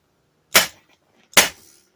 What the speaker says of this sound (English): we'll pull it tight, restaple it